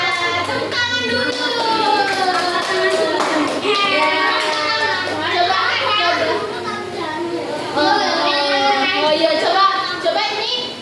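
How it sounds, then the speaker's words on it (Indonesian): Children in a classroom clapping their hands together, rhythmic claps mixed with lively kids' voices and chatter throughout. "Tepuk tangan dulu."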